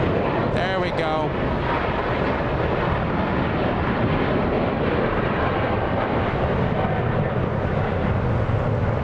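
Plane passing at Los Angeles International Airport, a broad steady roar of jet engines with heavy wind buffeting, and a brief whistling squeal near the start.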